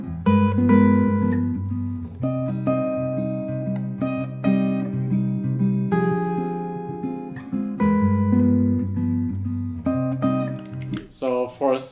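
A jazz guitar plays a flowing minor-key lick beginning on F, a steady stream of clear picked notes with sustained chordal tones underneath, loud and close, ending with a brief low voice at the very end.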